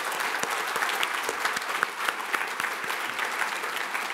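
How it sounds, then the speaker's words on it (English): An audience at a RightsCon Brussels 2017 closing ceremony applauds, a steady, dense clapping that fills the room at an even level from start to finish. "let's have a round of applause again for Nick."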